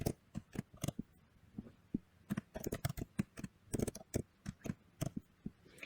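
Keys clatter on a computer keyboard as Python code is typed, in quick irregular bursts with brief pauses, close and clear with no talking.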